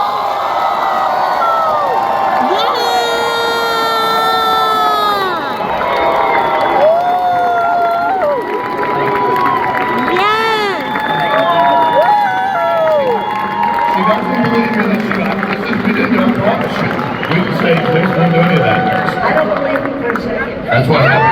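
Conference audience cheering loudly for Barbara Corcoran at a fireside chat, with a sustained roar of shouts and whoops from many voices, steady and close, running the whole length without a break.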